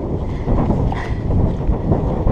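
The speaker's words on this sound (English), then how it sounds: "it's very windy, which is fine. But it means you probably can't hear me" Strong wind sweeps across open moorland in Exmoor National Park, a loud, steady low buffeting rumble on the microphone that swells slightly midway through the short stretch.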